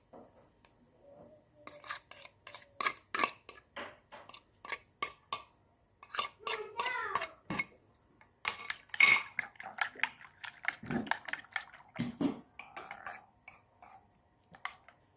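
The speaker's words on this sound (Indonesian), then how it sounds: "Dikocok-kocok telurnya" Eggs beaten in a bowl with celery leaves and sautéed onion, a rapid run of sharp metallic clinks and taps of utensil against the bowl, coming in bursts with short pauses between, close by.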